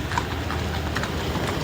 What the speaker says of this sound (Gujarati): રાઇડિંગ ક્લબના મેમ્બરો તમામ અશ્વ ઉપર સવારી કરી રહ્યા છે